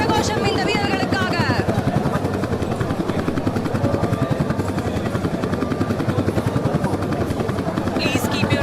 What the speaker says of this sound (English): Please keep your eyes glued to the helicopters carrying the commandos of 610 Garud flight